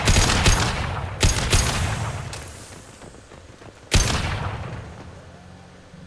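Gunfire bursts in the video game Mass Effect 2, with loud repeated shots and sharp blasts near the start and again around the fourth second, ringing out between bursts amid game ambience.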